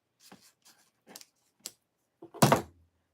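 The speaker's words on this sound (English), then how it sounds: "Whoops, wrong scissors to cut that with." Several short, sharp snips sound close by, spaced irregularly, ending with a louder crunching cut.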